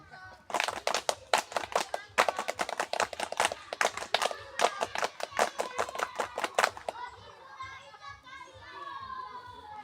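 A group of children does the scout clap twice, two bursts of quick, patterned unison claps mixed with shouted chanting, followed by fading chatter.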